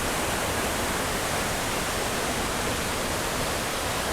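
Rushing water from Vasundhara waterfall near Bhandardara, Maharashtra: a steady, dense broadband roar that stays loud and unbroken throughout, with no voices.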